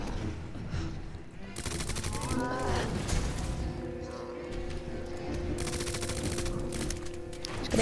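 Gunfire in Resident Evil 2 comes as rapid, repeated shots in clustered bursts alongside mechanical clanking and a droning, pitched hum, with a voice talking over it at times.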